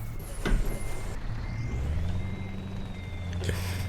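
A truck in Euro Truck Simulator 2 sounds a steady series of reversing beeps over a low engine hum, with a sharp hiss from the air brake near the start and another near the end.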